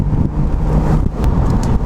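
BMW Z4 roadster with a 255-horsepower engine cruising at about 3,200 RPM, a steady low engine drone under loud wind and road rush heard from inside the open cabin.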